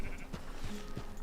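Sheep bleat on a ranch in Red Dead Redemption 2, several short, close bleats scattered across a low game ambience with no speech.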